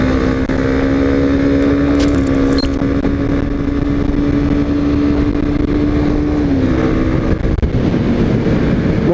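Kawasaki Z250 SL single-cylinder motorcycle on a road ride, a loud steady engine drone with a shifting pitch, heavy wind buffeting on the microphone throughout and no talking.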